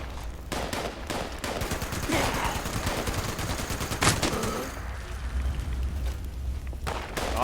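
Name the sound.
machine gun fire in video game Fallout 76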